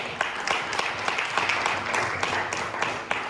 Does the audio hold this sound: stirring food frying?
no